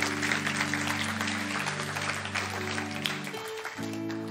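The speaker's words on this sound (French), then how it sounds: "vous pouvez applaudir." A church congregation claps during a French-language sermon, a dense, sustained wave of applause that rings out over steady held organ or keyboard chords, shifting pitch near the end.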